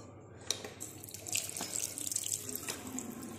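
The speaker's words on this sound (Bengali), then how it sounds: "তো দেখো আমি এখন এখানে হাতটা ধুয়ে নেব।" Tap water runs and splashes softly into a sink as hands are washed beneath it, a quiet, continuous trickle with small drips.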